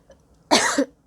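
A single short burst of coughing, loud and close, in an otherwise quiet indoor space.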